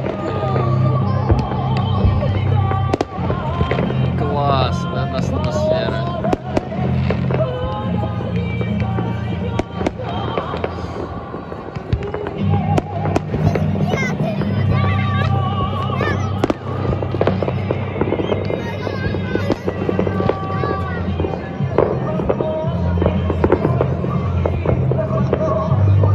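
New Year fireworks burst over Sochi in a continuous barrage of sharp cracks and booms, near and loud, layered over a dense crowd hubbub with people talking.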